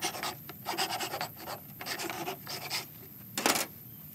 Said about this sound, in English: Now let's chip that out of there.